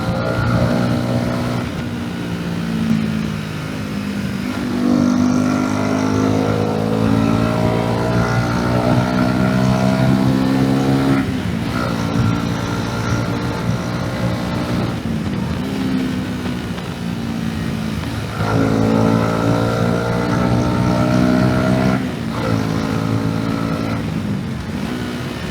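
A motorcycle cruising slowly on an open road, its engine droning steadily with gentle rises and dips in pitch as the rider eases along, with wind rush throughout.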